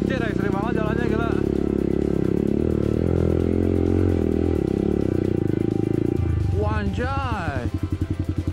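A motorcycle riding an extreme, congested off-road track, its engine droning and revving steadily beneath nearly continuous talk, with clattering near the end.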